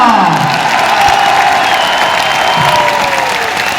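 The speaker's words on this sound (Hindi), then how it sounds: "वाह वाह वाह वाह वाह, तालियां।" Audience applause mixed with crowd cheering fills a large venue at a silver jubilee business event, a steady dense roar of clapping throughout with a few whoops.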